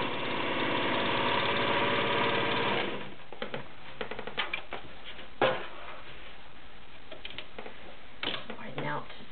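An Elna Super sewing machine runs fast on its foot pedal, a close, steady mechanical whir for about three seconds before stopping, followed by faint clicks and handling taps.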